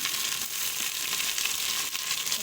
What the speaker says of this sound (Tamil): இந்த ஸ்டேஜில் நம்ம தக்காளி பழத்தை போட்டு வதக்கிடலாம்.